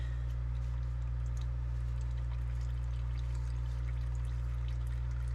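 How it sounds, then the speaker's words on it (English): Warm, thin engine oil drains from a 2011 Chevy Silverado in a steady, continuous pour, with a constant low hum underneath throughout. "You just let that drain for a little bit."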